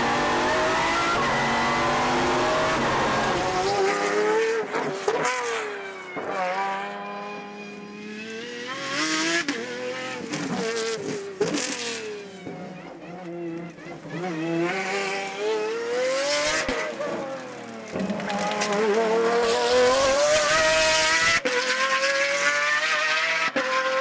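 A Pagani Zonda R, a racing supercar, is driven hard through corners on airfield taxiways: its engine screams and revs up and down through gear changes, with tyre squeal as it corners, loud and close throughout.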